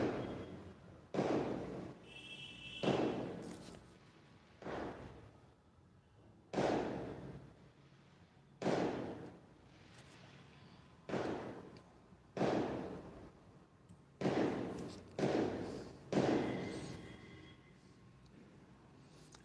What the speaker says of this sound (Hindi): पटाखों के भी मजे ले रहे हो आप लोग